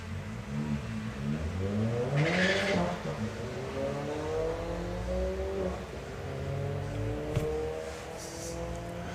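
Two drag racing cars, a Volkswagen Polo called the Loco Polo and an Audi TT, launch at a national drag racing finals. Loud engines rev and climb in pitch as the cars pull away, then fade over a continuous track-side roar.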